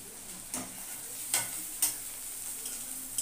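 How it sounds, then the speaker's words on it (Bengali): Onion fritters (piyaji) frying in hot oil give a steady soft hiss, broken by a few sharp clicks of stirring; no one speaks. "লাল করে ভেজে নেবো পেঁয়াজিটা।"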